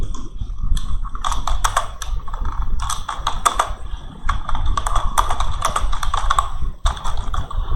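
Brisk typing on a computer keyboard, close and clear, with rapid bursts of key clicks separated by short pauses.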